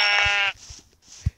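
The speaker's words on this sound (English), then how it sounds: "There's sheep near the thing." A sheep bleats in the Minecraft PE video game, one loud, clear synthetic bleat opening the moment and cutting off sharply, followed by faint low thumps and soft game sounds.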